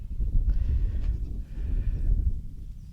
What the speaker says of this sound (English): The goats have figured out how to escape.